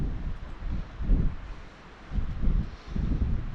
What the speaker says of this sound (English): Man, that wind is really picking up.